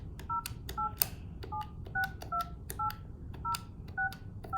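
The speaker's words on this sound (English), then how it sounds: "dial the phone number and then either press send or pound, and it will place the call for me" An Intermax Voice desk phone dials a number with the handset down, sounding a steady run of short beeping keypad tones, each sharp press followed by a brief two-pitch tone, close and clear over faint room noise.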